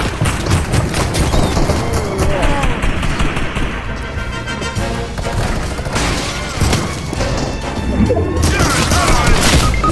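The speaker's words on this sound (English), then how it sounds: "Is someone else using the drum gun?" Rapid drum gun fire in the battle royale game Fortnite, loud dense bursts of gunshots with crashing impacts throughout, under busy game noise.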